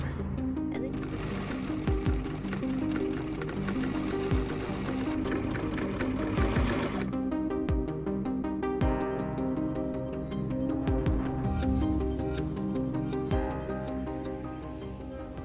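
Sewing machine stitching the sleeve and hem of a medieval-style dress, running in close, loud rattling bursts with brief pauses and a steady mechanical chatter throughout.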